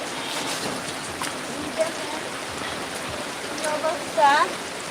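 Steady heavy rain falls outside after a morning-long downpour, a broad continuous hiss with scattered drips and splashes nearby, plus a brief louder splash near the end.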